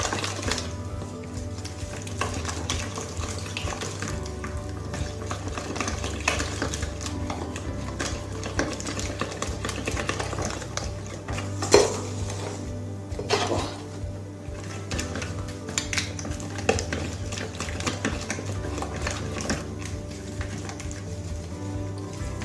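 Flour is worked into dough in a bowl with a continuous scraping, thudding knead rhythm, close and moderately loud, and no voices over it.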